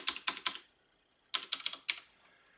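Keys clatter on a computer keyboard in two short close bursts of quick taps with a pause between, heard alone without speech.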